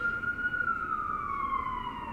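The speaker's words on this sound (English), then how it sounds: "I don't know what the sirens are for." Emergency siren outside, a single sustained wail slowly falling in pitch, distant and fairly faint, with no talk over it.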